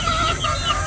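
Hens clucking close by, a brief burst of throaty overlapping clucks and murmurs from laying hens kept by a breeder.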